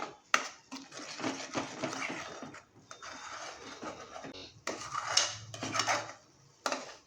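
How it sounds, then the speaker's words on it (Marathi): Spices such as red chili powder are sautéed in a little oil in a pan for a Malvani-style horse gram curry. A spatula makes quiet, irregular scrapes and clatters close by, with soft sizzling between the strokes. "छान असे आता मसाले मस्त परतून घेऊया"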